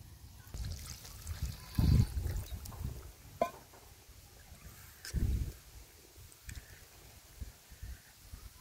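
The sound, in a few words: pouring broth into dried fish curry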